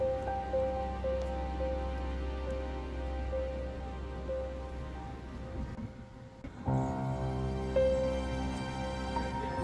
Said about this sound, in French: Il n'y a personne parce qu'il pleut.